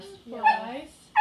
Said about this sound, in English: Again, I apologize for my dog.